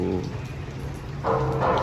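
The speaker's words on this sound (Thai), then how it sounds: "ฝนตกมื้อนี้" Rain falling at a roadside bus station, a soft steady patter of drops over a low hum, swelling louder toward the end.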